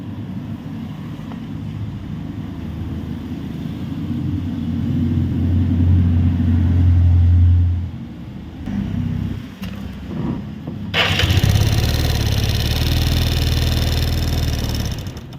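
Yamaha Fino scooter engine running while low on engine oil, a steady close idle that swells in revs, dips, then rises again into a harsher, louder running tone.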